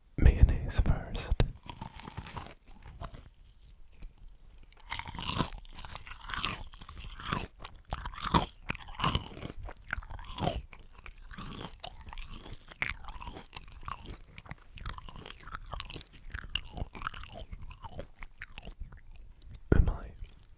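Crunchy Japanese fried chicken bitten and chewed close to the mic, with repeated crisp crunches and soft mouth sounds in an irregular rhythm, plus faint whispering at times.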